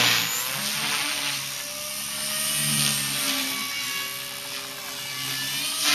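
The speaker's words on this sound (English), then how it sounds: "Yeah, there is a heli in this shot." A Trex 250 radio-controlled model helicopter flies nearby with a steady high-pitched rotor and motor whine that swells and fades slightly as it moves.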